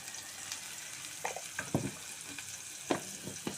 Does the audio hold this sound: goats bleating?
no